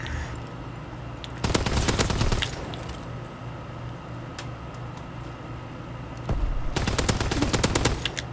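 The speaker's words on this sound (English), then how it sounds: "This LMG is so freaking amazing." A VMG-192 light machine gun in a WWII multiplayer shooter lets off two sustained automatic bursts, each about a second long and separated by a quiet pause, loud and rapid with no talking over them.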